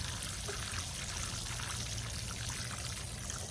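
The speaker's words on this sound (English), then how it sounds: "So we're going to take this nutrient tea and water our oregano" Nutrient tea pours steadily from a container onto an oregano plant, a continuous close splashing trickle of liquid soaking into the soil without pause.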